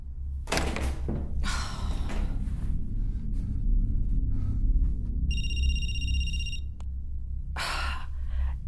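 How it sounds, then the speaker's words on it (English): Heavy banging on walls in the Night Book game: loud, close thuds come in a cluster at the start and again near the end, with a quiet stretch and a brief electronic tone between them. "you're banging on the walls"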